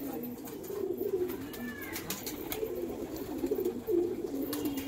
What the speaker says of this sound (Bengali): এই যে পায়রাটা এসছে।